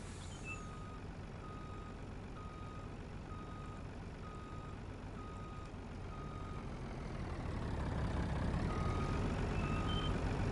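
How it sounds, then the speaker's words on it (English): Trucks backing up in a No Man's Land farming game on PS4, a steady electronic reversing beep repeating about twice a second over a low engine drone that grows louder near the end. "We'll go ahead and get all these trucks all backed in here all nicely."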